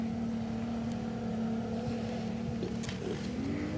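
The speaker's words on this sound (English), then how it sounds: "A lot of boat noise tonight." Motorboats on a lake during Memorial Day weekend drone at a distance, a steady low engine hum with a faint rising pitch near the end, heard from a backpacking campsite.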